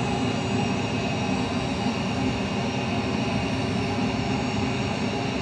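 An EA-6B Prowler jet in the FSX flight simulator gives off a constant, loud, broadband engine roar that holds unchanged throughout.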